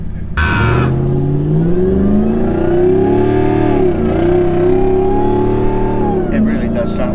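A supercharged Hellcat V8 swapped into a Jeep Gladiator, rated over 750 horsepower, revs hard and loud, its pitch climbing and holding in a sustained howling scream, with a voice briefly heard over it.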